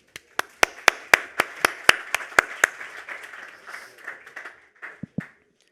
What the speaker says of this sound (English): applause please for Gabriele Zinni